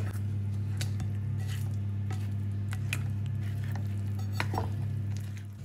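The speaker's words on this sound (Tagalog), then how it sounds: "siguraduhin lang natin haluin mabuti para mahalon lahat yung ating mga ingredients." Chocolate cake batter being stirred by hand, the spoon mixing dry and liquid ingredients in a bowl with soft squishing and light scraping taps, steady and close over a constant low background hum.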